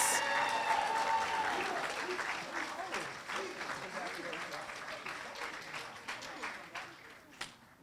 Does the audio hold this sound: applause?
yes